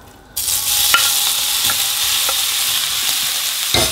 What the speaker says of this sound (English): we're going to fry these prawns